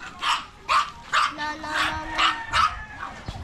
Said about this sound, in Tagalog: Kaya pala lagi nalahol ang mga aso.